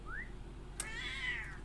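A cat meows twice inside a fantasy video game set in the Ered Mithrin region: a short rising meow, then a longer drawn-out one, both fairly clear over a steady low background hum.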